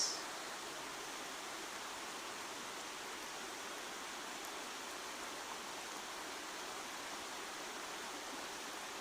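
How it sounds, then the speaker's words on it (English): A river flows past the bank in a redwood forest at Big Sur, a steady, even wash of rushing water that holds constant throughout with no other sounds. "resting here by this riverbank"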